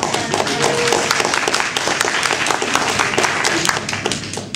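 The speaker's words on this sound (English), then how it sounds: "let's give them a big round of applause." Audience applause at the first annual UFO Revival, a dense, loud burst of many hands clapping that carries on without a break for several seconds.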